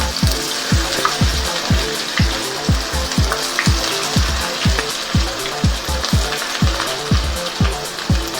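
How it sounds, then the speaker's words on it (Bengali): Chicken pieces frying over a high flame for butter garlic chicken, with a loud steady sizzle and regular rhythmic scraping or stirring strokes against the pan about twice a second, no talk. "আর এটা ভাজার সময় হাই ফ্লেম করবেন, নাহলে কি হবে, চিকেন থেকে জল বেরিয়ে পড়বে।"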